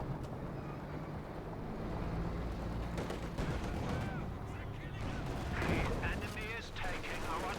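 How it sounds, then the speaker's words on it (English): Katyusha rocket artillery barrage in the Company of Heroes 2 World War II strategy game, a dense continuous rumble of launches and explosions with crackling bursts and a whistling streak, mixed under game ambience. "Another Katyusha barrage sits on the center."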